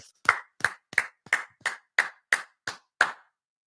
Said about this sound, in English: Let's give a round of applause to the IDF.